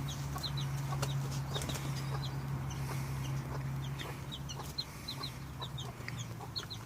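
Hens, including a brooding hen, cluck repeatedly in short, bright bursts nearby in an allotment orchard, over a steady low hum and soft background rustle.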